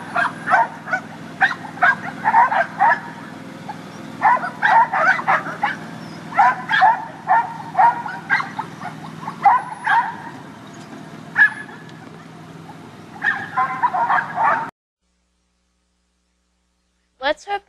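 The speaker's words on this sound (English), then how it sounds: "Here's a short clip of Eugene and his dog train" Dogs bark repeatedly in quick bursts, mixed with yips and whimpers over a low hum, before the sound cuts to silence and a brief final bark.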